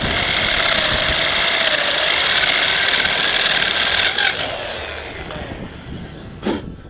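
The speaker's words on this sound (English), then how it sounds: "I'm just going to drill it out, just drill out the threads" A sharp drill bit bores out the threads of a Ferrari clutch master cylinder, a steady close whirring grind that winds down after about four seconds, followed by a brief knock near the end.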